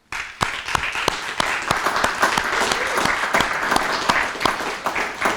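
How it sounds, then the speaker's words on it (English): Audience in a high school senior recognition ceremony applauds award and scholarship winners, a sustained round of many hands clapping with distinct nearby claps standing out sharply over the steady wash. "Let's give our co-curricular and extracurricular award and scholarship winners a"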